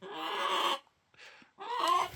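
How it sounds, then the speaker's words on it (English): A family of backyard chickens clucks and squawks close by in two loud bursts separated by a short pause, with no talking. "We got the chicken family."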